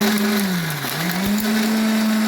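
A mixer grinder whirs loudly and steadily as it grinds grated fresh coconut for coconut milk, its motor pitch sagging briefly before recovering.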